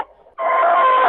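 A rooster crows in a farmyard among hens, a single loud, sustained call right up close after a brief quieter lead-in.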